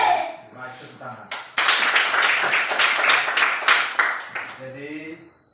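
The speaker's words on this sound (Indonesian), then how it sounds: "Mari tepuk tangan." Schoolchildren in an Indonesian classroom clap their hands together in a burst of rhythmic, fairly loud clapping lasting several seconds, with a teacher's voice speaking before and after.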